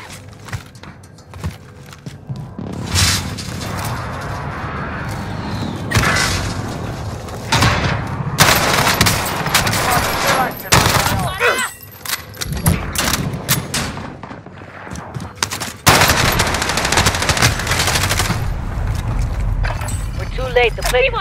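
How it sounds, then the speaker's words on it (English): Explosions and gunfire from an enemy precision airstrike in Call of Duty Warzone, heavy booms and shots rumbling through a dense, loud stretch of battle noise, with a voice talking over parts of it. "Enemy precision airstrike, take cover"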